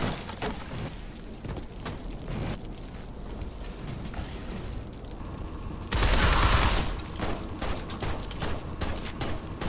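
Gunfire in the Shadow Complex video game on Insane difficulty: scattered shots and mechanical clanks, with a louder burst of firing a little past the middle, set against a low background.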